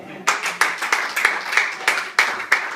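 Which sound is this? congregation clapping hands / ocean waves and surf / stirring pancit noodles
congregation clapping hands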